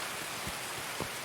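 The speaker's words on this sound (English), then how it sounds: "This rain, even though it's annoying, this rain it's actually gonna be nice for some cover." Rain in the video game Escape from Tarkov, a soft, constant wash of falling drops with a couple of faint low thumps, quiet and even throughout.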